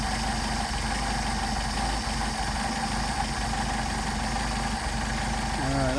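A Mercedes 190SL engine with rebuilt carburetors idles steadily and close, a continuous even drone with no rise in revs while the idle mixture is being adjusted.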